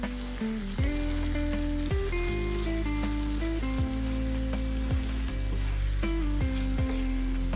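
Clams for an Agri-style dry clam dish are stirred in a frying pan after simmering about fifteen minutes, a steady sizzle running beneath louder background music.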